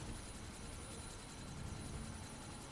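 A helicopter in Deus Ex: Mankind Divided, a steady low rotor drone with a faint regular pulsing, constant and moderately quiet, with no talk.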